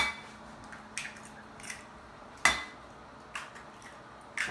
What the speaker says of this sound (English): So I have 2 eggs. I'm gonna put into a large measuring cup